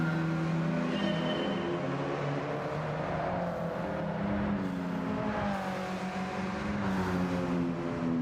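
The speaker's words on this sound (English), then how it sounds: "not a bad sound for a 4-cylinder" A four-cylinder race car engine in Gran Turismo 7 drones steadily from an outside view, its pitch rising and falling as the revs shift, continuous and moderately loud.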